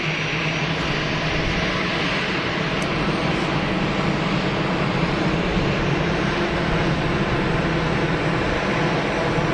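Airplanes at Geneva Airport give a loud, steady, broadband engine roar that holds evenly throughout without pauses, with no talk over it.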